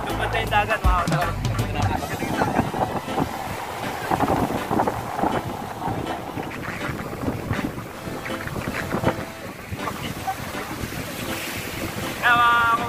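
Steady wash of sea waves at Ras Tanura, Saudi Arabia, and gusting wind buffeting the microphone, loud and continuous, with occasional voices faintly underneath.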